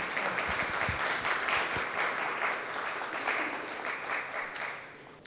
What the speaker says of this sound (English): Ladies and gentlemen, a round of applause for our panelists